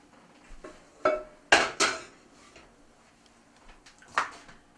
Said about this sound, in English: I'm going to put all the onion pasta on this pretty platter.